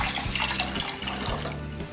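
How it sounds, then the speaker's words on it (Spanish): Tap water poured steadily into a cooking pot, measured at double the rice for rice pudding, running as a continuous close splashing stream from start to end. "de la libra de arroz voy a aplicar entonces el doble de agua"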